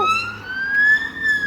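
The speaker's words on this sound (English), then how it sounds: "That's called to tell you that the ambulance is coming." A wailing ambulance siren sweeps slowly up and down in pitch over steady road rumble, sounding fairly close and continuous for the whole stretch with no voices.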